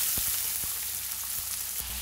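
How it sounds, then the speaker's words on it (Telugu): Green chillies and chopped onions fry in hot oil, a steady close sizzle with a few soft clicks and stirring knocks, no voices. "పచ్చిమిర్చి వేగింది కదండి, ఉల్లిపాయ ముక్కలు వేసుకోవాలి."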